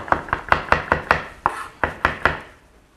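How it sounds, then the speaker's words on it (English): A knife chops lemon zest on a cutting board: about ten crisp, sharp taps in a quick, slightly uneven rhythm, close and clear, with a short pause midway and no speech. "So just chop it up so it's quite small."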